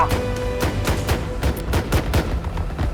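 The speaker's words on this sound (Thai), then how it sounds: "ยิงปืนขึ้นฟ้าเหรอ" Rapid bursts of gunfire fired into the sky in the Roblox game Blackhawk Rescue Mission 5, loud, close shots in an irregular rhythm throughout, with no talking.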